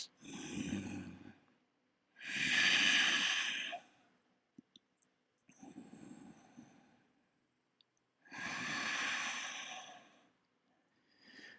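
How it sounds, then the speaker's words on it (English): Two deep, full yoga breaths, each a long audible inhale followed by a fuller sighing exhale, close and alone in a quiet room with small clicks between. "Take 2 deep, full breaths."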